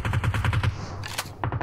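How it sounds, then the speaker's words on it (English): An M16 rifle fires in PUBG Mobile as a quick, evenly spaced string of sharp shots, a short pause with a brief crack, and then a few more rapid shots, all loud and close. "Look at Razy trying to be able to get some nice little pop shots with that M16 single tap."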